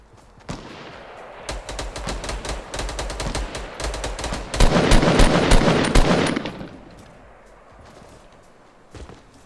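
Loud automatic gunfire in a squad-based shooter game, rapid bursts building to a dense volley around the middle and then fading to quieter distant shots, with no clear talking.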